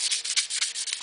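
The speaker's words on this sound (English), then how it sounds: "I continue to sand in the same direction without cross sanding" Hand sanding of stainless steel car trim, strokes kept in one direction: a steady, close abrasive rubbing in repeated short passes, roughly five strokes in a second, with no voices.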